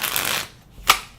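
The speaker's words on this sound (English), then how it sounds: "I love these cards, but I hate the way they shuffle, honestly." Tarot cards being shuffled, a quick papery riffle lasting about half a second, then a short pause and a single soft snap of the cards. The sound is close and stands alone without talk.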